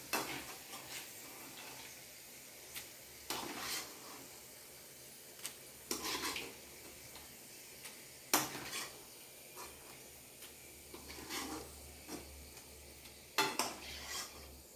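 Avil (flattened rice) mixture stirred in a pan, giving intermittent scraping clinks of a spoon against metal every second or two over a faint low hiss, fairly quiet and without talk.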